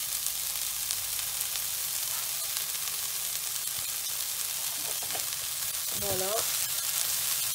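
Onions salted and caramelizing in a pan during home batch cooking, giving a steady, close broadband sizzle throughout, with a brief spoken word near the end.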